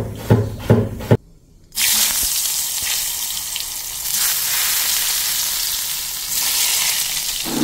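Eggplant slices frying in a pan give a loud, close hiss and crackle that swells after a brief opening clatter and a moment of near silence.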